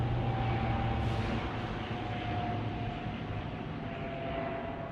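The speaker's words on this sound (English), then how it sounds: "Beautiful airplane flying by." A passing airplane flies overhead as a steady, broad roar with a faint droning hum, loud and continuous throughout without any voices.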